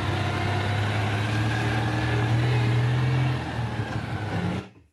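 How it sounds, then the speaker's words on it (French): A Citroën 2CV drives through Paris, its small engine droning steadily and close, with a low buzzing hum that holds for several seconds before fading out abruptly. "Alors ce bruit de la dodoche là en plein Paris"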